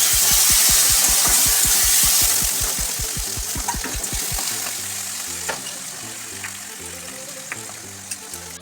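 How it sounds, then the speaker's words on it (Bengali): Potato pieces frying in a pan of hot oil, part of making a flattened-rice pulao breakfast, give off a steady loud sizzle under a fast rhythmic scraping for the first half, then a quieter sizzle with occasional stirring clicks. "আলুগুলো ভালো করে ফ্রাই করে নেব আগে।"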